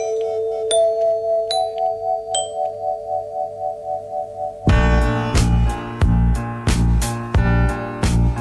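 A doorbell chimes its ding-dong a few times over a steady low hum, clear and ringing. Loud full-band music then bursts in and takes over.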